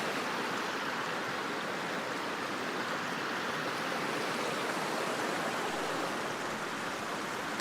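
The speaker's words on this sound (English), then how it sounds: "continue on up here, go through these rapids" River rapids rush along a stream in Washington State during a rockhounding outing, a steady, loud, broadband wash of flowing water filling the whole stretch with no voices.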